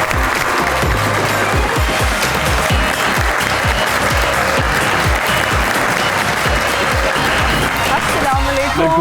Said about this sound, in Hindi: आप सबकी तालियों में तशरीफ लाते हैं राना सिकंदर हयात।